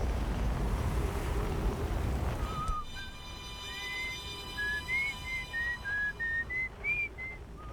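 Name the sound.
someone whistling in Outer Wilds video game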